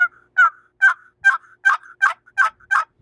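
Plain yelp of a wild turkey hen imitated on a small handmade box call of walnut, maple and butternut hickory: eight loud, close, evenly paced raspy yelps in a steady rhythm.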